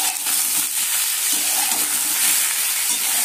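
Mixed vegetables for Bengali shukto sizzle loudly and steadily in an open pan, a continuous close frying hiss with faint stirring movement underneath.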